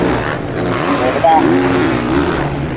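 Motocross bike at Foxhill accelerating over the finish line in a wheelie, its engine note rising in a steady roar close by, heard under a commentator's voice.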